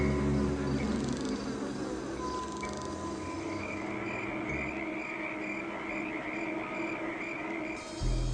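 Flies buzzing steadily in a garden, a dense continuous insect drone close to the listener, holding at an even level for the full length with no voices.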